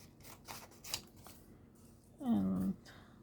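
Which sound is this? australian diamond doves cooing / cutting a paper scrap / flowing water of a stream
cutting a paper scrap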